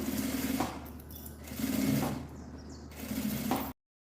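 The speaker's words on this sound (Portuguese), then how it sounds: "Costura com um pé de máquina" A sewing machine runs in steady stitching bursts as a presser foot guides fabric for a handbag, with the motor whirring in three close runs and brief pauses between them before stopping abruptly.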